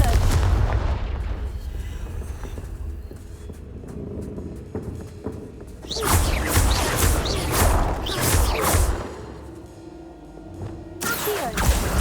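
Confringo fire spell blasts in the Hogwarts Legacy video game, heavy booming explosions and crackling bursts in loud waves, with game combat noise throughout.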